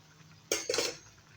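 Metal lid lifted off a cooking pot of green vegetables on the stove, a short close clatter of two quick metallic clinks, otherwise quiet.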